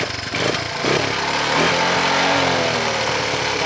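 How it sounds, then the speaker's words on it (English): A 1980 Honda CT110 Trail 110 motorcycle idles fast on choke on a cool morning, its small single-cylinder engine holding a steady, continuous mid-pitched putter close by with no talking. "It idles fast on the choke."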